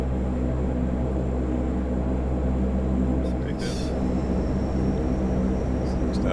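Convair CV-580 turboprop airliner from 1957 running up at start, a steady loud low drone with constant rumble throughout, a brief higher whine midway, and voices talking over it.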